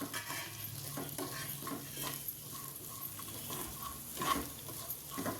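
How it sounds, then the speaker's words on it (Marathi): Green chillies with rock salt are stir-fried in a hot pan for Maharashtrian mirchi thecha, with a steady soft sizzle under repeated scraping and stirring strokes at a fairly quiet level. "आता हे चांगलं परतून घ्यायचं"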